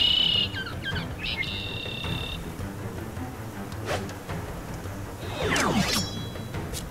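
A giant bird creature in the action RPG Oninaki lets out a harsh, descending screech near the end, following scattered chirps and game effects over a low ambient rumble.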